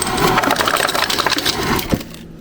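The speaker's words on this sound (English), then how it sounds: "I'm gonna go fill this with some ice because ice water just hits so much differently." Ice cubes clattering and cracking as they are dropped into a cup, a dense run of close, loud rattling that ends with a final knock.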